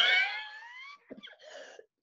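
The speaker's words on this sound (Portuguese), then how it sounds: "ainda estou com aquela tosse alérgica" A single allergic cough, opening with a strained, tonal wheezy rasp that fades, then a short choppy burst of throat noise, close and fairly loud.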